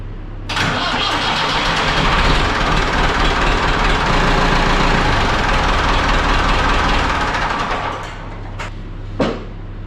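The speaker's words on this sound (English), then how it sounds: "we're going to go ahead and start the tractor real quick for about 30 seconds" Ford 5600 tractor engine cranks and catches, then runs with a loud, rough diesel rumble for several seconds before shutting down, followed by a couple of sharp clunks nearby.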